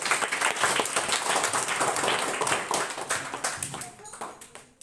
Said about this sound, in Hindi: एक बार जोरदार ताली मारिए